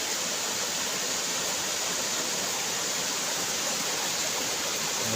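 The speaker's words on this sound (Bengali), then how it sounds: "এই পরিবেশে দেখুন উপর থেকে জলগুলো পড়ছে কীভাবে" Water pours down steadily from above at a temple waterfall in Odisha, a loud, unbroken rushing roar that fills the whole stretch with no voices over it.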